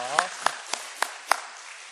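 A few slow, separate claps ring out in a church congregation during an Easter Sunday service, five sharp hand claps spaced evenly over a couple of seconds with a faint reverberant room around them.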